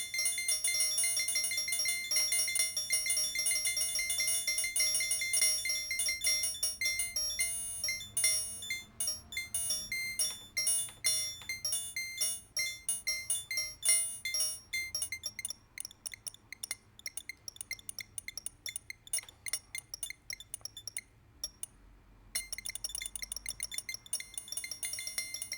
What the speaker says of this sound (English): We start getting these really nice kind of almost like chime metallic bell sounds.